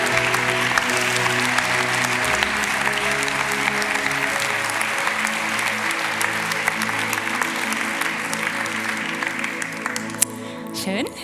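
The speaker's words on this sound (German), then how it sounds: "Und wir holen sie auf mit einem herzlichen Applaus." A studio audience at a Swiss talk show applauds steadily as guests Nadia and Rita come on stage, a dense, sustained clapping that continues at an even level and thins slightly toward the end.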